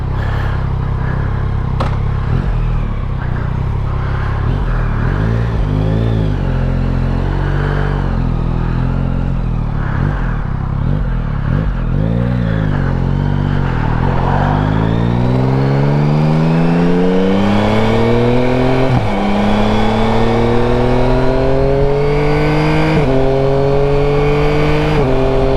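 A Yamaha Tracer 9 GT+ motorcycle engine, 2024 model, pulling hard through the gears on the road. It rises in pitch through repeated sweeps, drops at each shift, and keeps a loud, close, steady roar with wind noise throughout.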